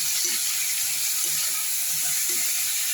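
Ridge gourd peel sautés over low heat in a frying pan, giving a steady, even hiss and crackle of sizzling with faint scraping underneath and no talking.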